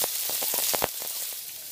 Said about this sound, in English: So our chicken's almost ready now. That's sizzling away.